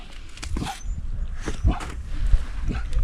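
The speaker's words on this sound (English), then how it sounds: "Nice doggy, nice doggy." A dog at a sled dog kennel in Denali gives a few short yips and whimpers, close by, while people nearby talk and coo over the dogs.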